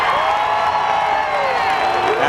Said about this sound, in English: the applause was for Steve Park climbing out of his car